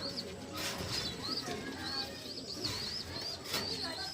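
A grizzle racing pigeon, a breeder bird with pearl eyes, coos repeatedly in soft, rhythmic phrases close by, with other bird chirps and faint background noise throughout.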